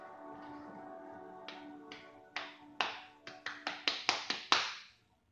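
A person claps, starting with a few sparse claps that speed up into a quick run of about a dozen sharp slaps, close and fairly quiet, then stops.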